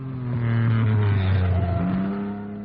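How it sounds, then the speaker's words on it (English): Several 1961 Formula One race cars roar close by on the Monaco street circuit as they turn right into the tunnel, with a loud, sustained engine drone whose pitch slides and shifts as they pass. "the Ferrari falls back to third as the cars turn right and into the tunnel"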